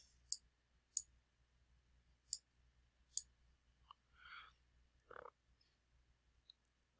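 Mouse clicks on a computer while resizing and reshaping a bar graph in Excel 2007: four sharp, isolated clicks spaced about a second apart, then a few soft rustling and tapping desk sounds, all close and quiet with no talking.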